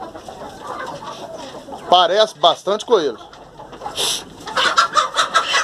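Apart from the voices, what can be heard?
rooster and hen clucking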